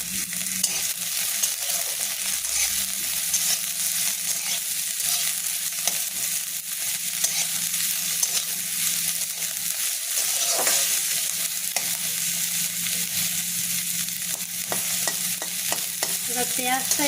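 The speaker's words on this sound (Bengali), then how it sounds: "এরপর ওই তেলে আমি পেঁয়াজটা দিয়ে দেবো, পেঁয়াজ আর কাঁচা লঙ্কা কুচিটা দিয়ে দেবো" Chopped onion and green chili fry in hot oil for a long, steady, close sizzle, with scattered scrapes and stirring clatter toward the end and no voices.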